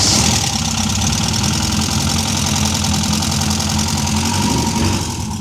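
An old engine, restarted after fifteen years without running, idles on its own with a loud, steady, slightly knocking rhythmic chug heard close up, with no other sounds over it.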